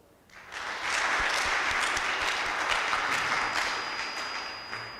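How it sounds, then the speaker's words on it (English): A conference audience breaks into applause for a professor's presentation, the clapping swelling quickly and holding steady at moderate volume before easing slightly at the end. "I want to ask the audience to give her a better applause."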